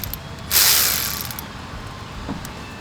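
A ratchet loosening a coolant pipe fitting on a 2013 VW Beetle gives a short, sharp metallic burst that fades out. A fainter mechanical click follows near the end.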